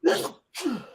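A single sneeze, a sharp breathy burst followed by a short pause and a second airy exhale, close to the microphone.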